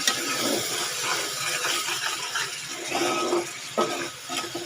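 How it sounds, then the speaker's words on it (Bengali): Water poured into a cooking pot holding ground ginger, garlic and onion paste with chilli and cumin powder, a steady splashing, bubbling pour that runs for several seconds at close range, with no voices. "একটু ভালো করে জলটা দিয়ে দিলাম"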